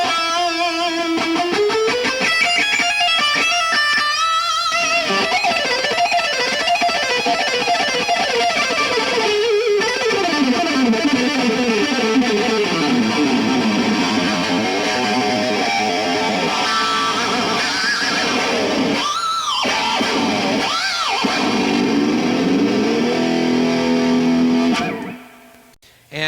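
A fast distorted electric guitar lick, played alone with dense, rapid picked runs that climb and fall for about twenty-five seconds before cutting off abruptly.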